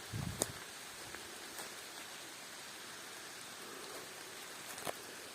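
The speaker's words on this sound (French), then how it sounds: "Allez, c'est reparti pour la pluie." Steady soft hiss of rain falling outdoors at a campsite, with a few louder drops or taps near the start and end.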